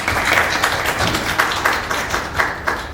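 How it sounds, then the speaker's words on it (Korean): Applause from an audience at a Korean women's policy forum as a party leader is welcomed to the stage; steady, moderately loud clapping with uneven bursts running throughout. "박수 부탁드립니다."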